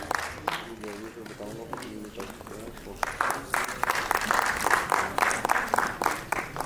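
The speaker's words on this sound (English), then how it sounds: "Please have a round of applause." Audience applause at a panel discussion's memento presentation, a steady patter of clapping from a crowd that swells and grows louder toward the end, with a voice speaking over the start.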